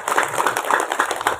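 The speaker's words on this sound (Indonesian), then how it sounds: "Tepuk tangan untuk kita semua" A short burst of audience clapping follows a comedic religious talk at an Indonesian Navy clinic in Cilacap, sounding quick, rhythmic and fairly close across the room.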